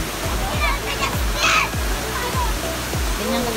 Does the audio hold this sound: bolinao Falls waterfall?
yes